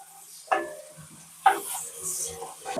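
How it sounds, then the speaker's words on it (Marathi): Chopped onion stir-frying in a pan for a dhaba-style methi matar malai curry, with two sharp stirring scrapes and a soft ongoing sizzle between them, close and moderately loud, no talking. "कांदा चांगला स्टर फ्राय होऊन द्यायचा आहे, लालसर होऊन देऊया आपण थोडासा हलकासा"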